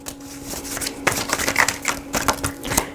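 Tarot cards are shuffled in quick, papery riffles and taps, soft and close, with a steady low hum behind them.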